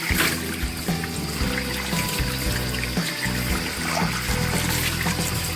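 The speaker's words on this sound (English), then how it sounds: "So we're gonna rinse this off." Hands rinsed under a running tap after scrubbing with a homemade hand cleaner, the water pouring steadily and splashing close by, with shifting gurgles as the hands move through the stream.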